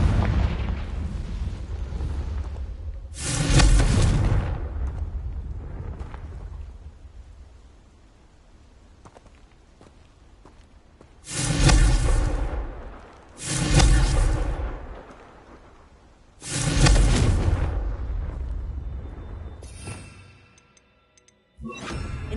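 Confringo spell blasts in Hogwarts Legacy, four heavy explosive booms spaced several seconds apart over a low rumbling background, loud and close with no talking.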